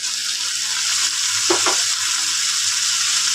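Tomato pieces dropped into hot oil for Bengali pabda fish jhol with cauliflower give a steady, close sizzle and fry that runs throughout, with a brief splash of louder crackle midway.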